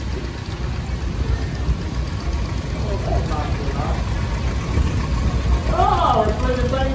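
A 1957 antique farm tractor rolling in an evening parade at a county 4-H fair, its low, steady engine rumble running beneath a man's continuous announcing over the whole stretch.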